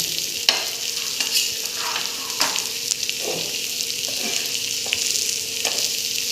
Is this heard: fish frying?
yes